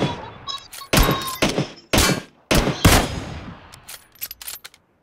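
Gunfire in the PUBG Mobile video game: a handful of loud, sharp shots in irregular bursts, each cracking out and decaying, with quieter clicks and thumps trailing toward the end.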